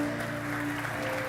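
Applause from a church congregation during an evening sermon, a brief steady wash of clapping blended with sustained keyboard or organ tones.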